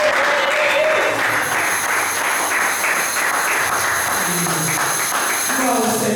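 A church congregation applauds loudly and steadily, a dense wash of many hands clapping close by throughout, with voices rising over the clapping near the end.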